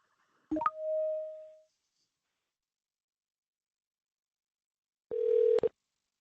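Electronic telephone tones sound while a call is placed: a short chirp with a sustained tone, a long silence, then another brief steady tone burst, clear and isolated with no talking.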